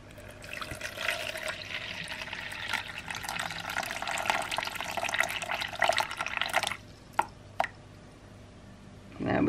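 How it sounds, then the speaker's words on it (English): Tap water running and splashing into a container while measuring it out for castile soap making, a loud, continuous pour that cuts off near the end, followed by a few drips and clinks. "So let's add some water now"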